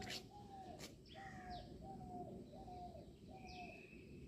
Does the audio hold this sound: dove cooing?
yes